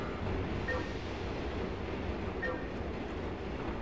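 Subway train in the Turok 3 video game approaching through a tunnel, a steady loud rumbling roar with faint metallic squeals, continuous throughout.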